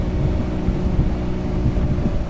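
A boat runs steadily on a Johnson 70HP outboard motor, a constant low engine drone with wind and water rush, loud and close throughout, no voices.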